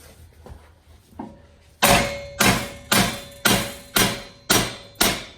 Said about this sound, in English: you could use a normal hammer to do this job if you really wanted to